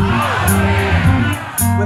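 A live concert crowd at a show at Dimitriou's Jazz Alley shouts back in unison, a loud, dense burst of voices with whoops, set against sustained music from the band.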